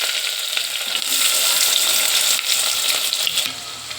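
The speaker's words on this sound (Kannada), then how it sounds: "ಇವಾಗ ಕಾದಿದೆ ಆಯಿಲು. ಇವಾಗ ಈರುಳ್ಳಿ ಹಾಕ್ಕೊಳ್ಳೋಣ." Two chopped onions go into hot oil and fry with a loud, steady, close-up hiss that barely eases off throughout.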